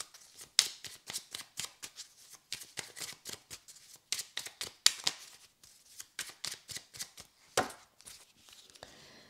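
Rune oracle cards shuffled by hand for a divination reading, a close, steady run of quick papery riffles and flicks lasting several seconds with no talking.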